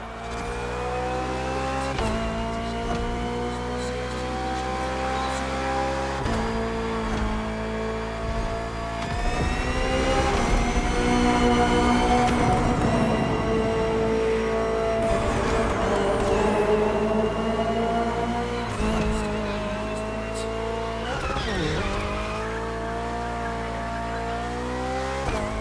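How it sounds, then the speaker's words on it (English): A BMW M Hybrid V8 endurance race car in The Crew Motorfest: a loud, continuous engine roar that climbs in pitch through the gears, with repeated upshift drops and a strong, steady revving drone throughout. "Finally, the BMW M Hybrid V8. What a beast."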